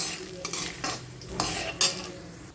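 Green and red chilies sizzle and crackle in hot oil while a spoon stirs and scrapes the pan in short bursts, close by.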